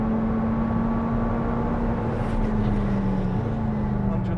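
A McLaren 765LT, a near 800 horsepower mid-engine supercar on Trofeo R tyres, accelerates hard through third and fourth gear, its steady loud engine drone rising in pitch with a brief dip at the upshift, heard continuously from close by.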